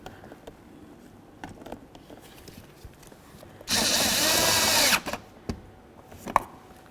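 A power tool drives a bolt into a 2006-12 Ford Fusion window regulator, one steady loud whirring burst of about a second amid quiet workshop clatter and small knocks.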